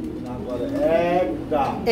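Pigeons kept at a pigeon market coo in a steady, low, throaty warble that rises and falls over about two seconds, with a faint background hum and no clear speech.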